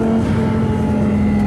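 A twin-turbo Audi R8 accelerates hard from up close, its engine note rising in a loud, steady sustained drone with a strong whirring tone, no voices over it.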